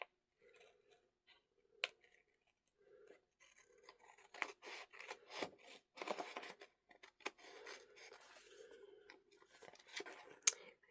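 Scissors snip and trim around a paper piece for a tiny Fourth of July craft journal, a run of close, quiet crisp cuts and rustles that quicken into dense bursts midway, with soft paper handling between.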